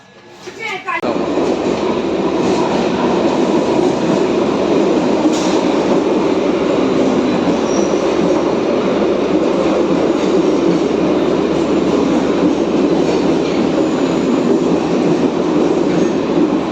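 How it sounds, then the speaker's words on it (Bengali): A local train near Kolkata rumbles past loudly and steadily at close range, a continuous roar of wheels and carriages with faint rattling throughout. "এটা হচ্ছে লোকাল ট্রেন, লোকাল ট্রেন।"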